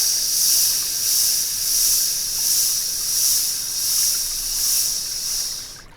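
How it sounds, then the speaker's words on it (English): A person exhales a long hissing S sound during a medical qigong breathing exercise, a steady, close hiss that swells and fades gently in a slow rhythm before trailing off. "Exhale, letter S."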